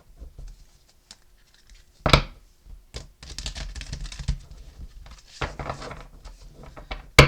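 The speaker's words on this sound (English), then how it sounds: "Let me give these another shuffle." Cards are shuffled in several bursts of rapid fluttering riffles and soft slaps, with brief pauses between them.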